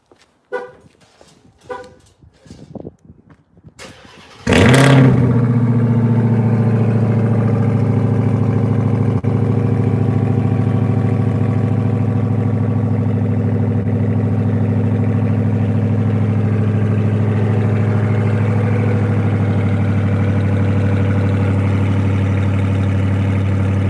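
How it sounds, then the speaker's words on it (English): A Redeye car engine cold starts with its exhaust flaps open: a few faint clicks and a brief crank, then a sudden very loud roar that settles into a steady, deep, rumbling idle. "It's going to be loud because I opened the exhaust flaps."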